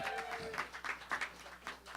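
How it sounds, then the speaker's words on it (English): Light, sparse clapping from a small audience at a Chicago literary magazine release, faint and uneven, following a moment of talk at the start. "Round of applause."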